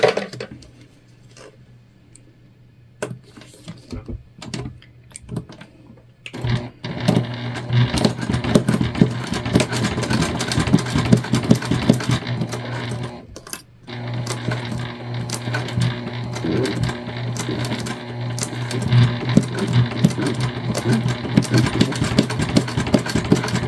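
Sewing machine stitching clear and jelly vinyl, quiet at first, then a rapid mechanical whirring and chattering that runs steadily, pauses briefly midway, and resumes close and loud.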